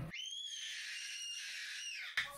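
A young child at home lets out a single sustained, shrill scream lasting about two seconds, loud and close, cut off abruptly with a short clatter after.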